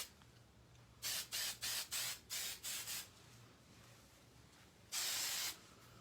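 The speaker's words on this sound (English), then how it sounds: "at the end, I just get a little hairspray" Hairspray hisses onto a hot-roller pinup hairstyle in six quick, evenly spaced spritzes, then one longer burst after a pause, close and crisp in a quiet room.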